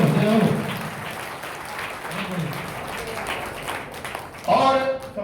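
Audience applause rising at a political gathering of a youth Jat assembly after a rousing speech, with sustained clapping under a voice, a dip in the middle, then a louder burst near the end.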